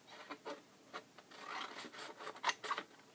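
Scissors snip through paper while an envelope is made: a few quiet, close cuts mixed with soft rustling and rubbing of the sheet, with a sharper snip near the end.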